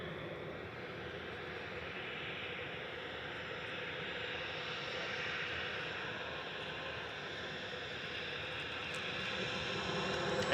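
An Aer Lingus airliner arriving from Dublin at Manchester Airport gives a steady, broad roar that swells slightly toward the end, with no voices.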